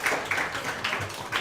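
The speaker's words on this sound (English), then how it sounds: "Clap it up for that" A short burst of clapping from a small group at a girls basketball team gathering in a pizza restaurant, brisk and close, with uneven claps over room noise.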